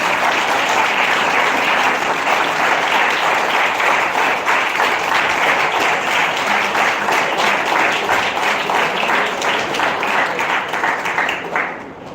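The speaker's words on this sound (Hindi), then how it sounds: "जोरदार तालियां।" Loud, sustained applause from a crowd at an award ceremony, dense clapping filling the room for about twelve seconds before tapering off at the end.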